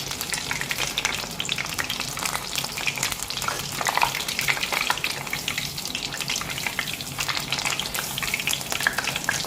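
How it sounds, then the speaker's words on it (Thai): Batter-coated enoki mushrooms deep-fry in oil over high heat, producing a dense, continuous crackling sizzle that stays loud and even throughout. "แต่ใช้ไฟแรงนะคะ ทอดเห็ด เห็ดเราจะได้กรอบ ไม่อมน้ำมันด้วยค่ะ"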